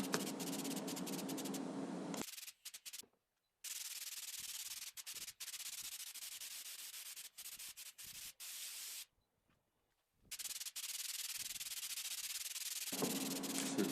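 Welds and Bondo filler are sanded smooth on the body of a 1966 Triumph Spitfire MK2, a close, loud, steady abrasive rasp broken by a couple of short and longer pauses.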